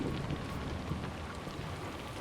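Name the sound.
rain in Assassin's Creed Shadows video game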